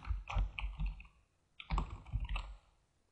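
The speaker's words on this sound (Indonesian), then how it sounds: "Di sini saya ketikkan motivasi." Someone types on a computer keyboard in two short bursts of quick, close clicking keystrokes separated by a pause, quiet and alone without speech.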